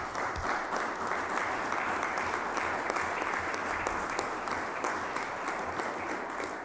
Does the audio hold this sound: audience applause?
yes